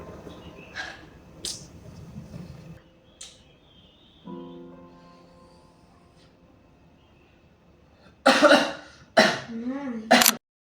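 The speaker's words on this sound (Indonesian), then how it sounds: "Batuk mungkin terdengar biasa" After quiet rustling and a brief humming tone, several harsh, loud coughs burst out close up in quick succession.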